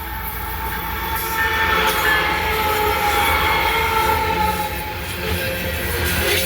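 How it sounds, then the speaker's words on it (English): A coal train rolls downhill toward Greenwood with a loud, steady rumble of wagons and wheels, thin metallic squeals riding over the heavy low roar. "SCWS coal train headed down the hill, going to Greenwood."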